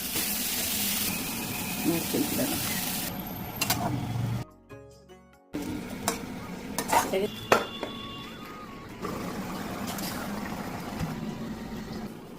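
Ginger is added to a pan and stirred while frying, with metal utensil scrapes and clatter over a faint sizzle, a short quiet gap midway, then more clinking and stirring.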